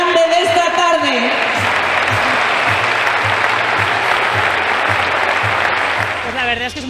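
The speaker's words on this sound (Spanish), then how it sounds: "por favor el aplauso más grande de esta tarde." An audience at a tribute event for a women's cup-winning team claps in dense sustained applause that fades toward the end, with a voice speaking over the start and the close.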